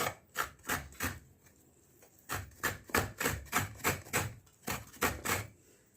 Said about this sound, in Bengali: নারকেলটাকে আমি কুড়িয়ে নিচ্ছি